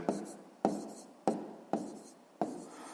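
Numbers being written by hand while working a sixth-grade decimal addition exercise: five sharp strokes of pen or chalk at a steady pace, each with a short scratchy tail, close and fairly quiet with no voice.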